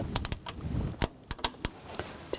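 A ratchet turns a T50 socket on the belt tensioner of a 2000-2006 BMW X5 3.0L inline-six, giving sharp, irregular metallic clicks and taps close by, separated by quiet gaps.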